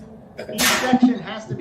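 A single sneeze bursts out in a lecture hall, loud and close, overlapping a lecturer's speech.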